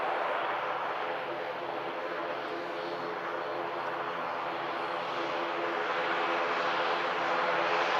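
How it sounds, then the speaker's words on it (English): A Boeing 757 taxis out at Manchester Airport, heading for Malaga, its steady broadband engine roar loud and continuous throughout. "We do have another 757 taxiing out, heading out to Malaga"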